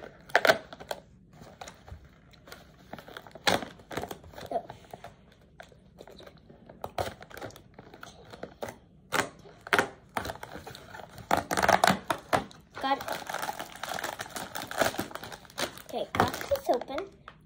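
Poppin' Cooking kit packaging being opened by hand with small scissors, giving a string of close, crinkly plastic rustles, crunches and sharp taps in uneven bursts, with people talking softly in between.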